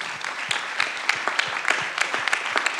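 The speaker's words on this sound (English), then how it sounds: "So let's get a quick round of applause for that sentiment." A short burst of applause from a panel audience, a modest group whose individual claps stand out in an uneven patter, fairly close and alone without talk.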